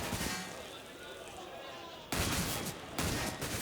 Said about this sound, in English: A little bit of wall banging going through.